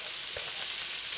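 Basmati rice frying in a hot pan: a bright, even hiss of sizzling oil that holds steady throughout, with one soft knock early on.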